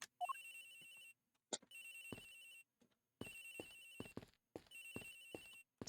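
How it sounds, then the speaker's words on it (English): A telephone rings in the video game Ace Attorney Investigations: four bursts of an electronic ring separated by short silences, with brief game blips between them. "This phone is ringing from somewhere, sir."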